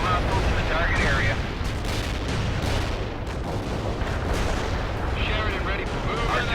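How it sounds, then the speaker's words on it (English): Artillery fire in the real-time strategy game World in Conflict: a continuous dense barrage of heavy, rumbling blasts that overlap into a thick wall of sound. "Artillery firing."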